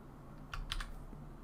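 Typing on a new computer keyboard, a short burst of a few close, crisp key clicks over a faint steady background hum, with no voices.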